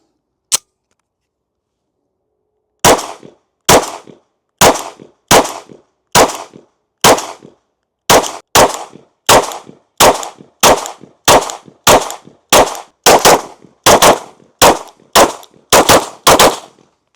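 A ported CZ P10c pistol fires a mixed bag of ammunition: about sixteen sharp, loud shots in an uneven, fairly quick cadence after one lone opening crack, with no talk.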